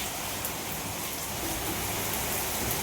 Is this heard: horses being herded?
no